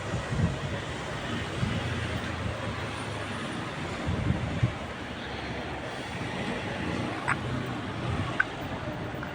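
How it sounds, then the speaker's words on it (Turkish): Strong wind buffeting a balcony, a continuous low rushing roar with gusty swells and occasional faint knocks, steady and moderately loud with no voices. "Şu sese bak rüzgar."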